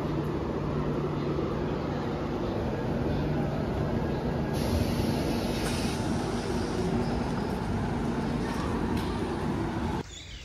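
Mumbai local train pulling out of Karjat station, a steady, loud rumble of wheels and carriages that holds unbroken with a faint high whine above it, then drops away abruptly at the end.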